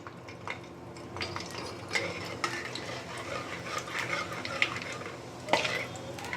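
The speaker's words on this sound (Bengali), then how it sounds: "তেল গরম হয়ে গেছে, এবার এতে 5 ফোড়ন দিয়ে দেবো।" Panch phoron spices dropped into hot oil for a drumstick dish, giving a soft sizzle under repeated clinks and scrapes of a spoon stirring in the pan, close and moderate.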